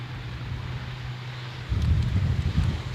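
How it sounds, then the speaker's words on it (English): Strong gusting wind buffets the microphone at Edinburgh Airport beside runway 24, a steady low rumble that surges louder about halfway through and stays rough and blustery, with no voices. "Wow, the wind is suddenly playing havoc."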